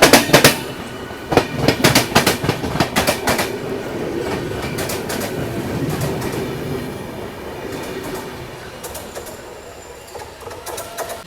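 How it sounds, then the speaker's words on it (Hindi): An Amrit Bharat Express train rolls into a station, with loud, close, rhythmic clickety-clack of wheels over rail joints easing into a steadier rumble as it slows. "एक्सप्रेस का डिपार्चर हो रहा है और अपनी ट्रेन का अराइवल हो रहा है।"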